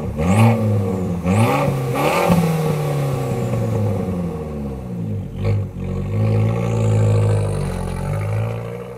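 Abarth 695 Record Monza Sopra Posto exhaust starting up and pulling away: a loud, raspy engine note that revs and climbs several times, dips briefly, then settles into a throaty rising pull as the car drives off.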